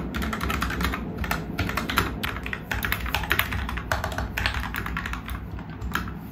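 Steady fast typing on a 1st Player Uni-Q custom mechanical keyboard, lubed and filmed switches, dense overlapping keystrokes close up with no talk.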